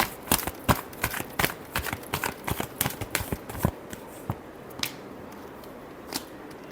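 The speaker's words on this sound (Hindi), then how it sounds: "last shuffle" Tarot cards being shuffled, a quick run of crisp riffling snaps for several seconds that thins into a few sparse taps, close and clear with no talking.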